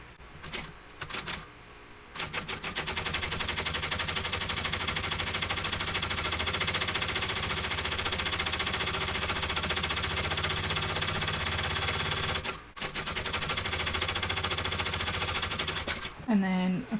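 A sewing machine stitches a handbag in a long steady run of rapid mechanical chatter, pausing briefly before a second sustained burst and a short stop at the end.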